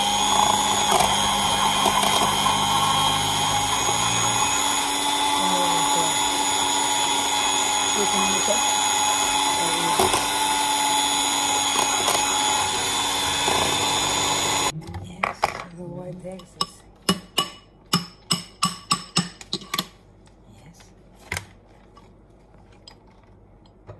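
An electric mixer whisks egg whites with sugar for a dessert, a steady loud whirring drone with clinks against the bowl, then it stops and scattered sharp taps and knocks of utensils follow.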